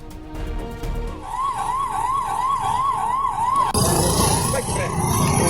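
An ambulance siren wails in a rising and falling pattern while the vehicle is stuck in slow traffic, then gives way to loud, close street and crowd noise.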